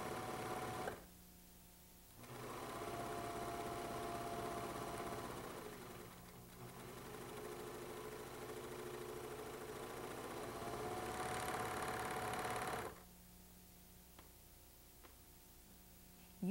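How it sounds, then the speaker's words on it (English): A regular straight-needle sewing machine stitches the center back seams of a pair of shorts, its steady motor whir running in sustained bursts with a brief pause near the start and a quieter stretch at the end. "Kim will use the regular sewing machine to demonstrate both techniques"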